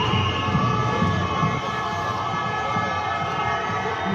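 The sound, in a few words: ambulance siren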